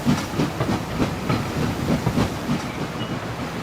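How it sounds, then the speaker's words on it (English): Trains in the game Anno 1800 rumble along with a steady rhythmic clickety-clack of wheels on rails and a soft hiss, moderately loud and continuous, with no voices. "Some new trains."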